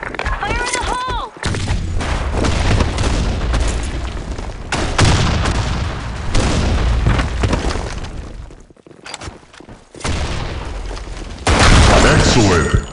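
Loud game combat from the shooter BlackShot, with a heavy grenade boom and sustained gunfire filling the clip, dense and close. Brief gaps break the barrage, and voiced game callouts are heard over it.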